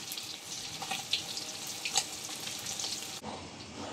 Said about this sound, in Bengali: মাছ ভাজা হচ্ছে, আর একটু কালার করে নিব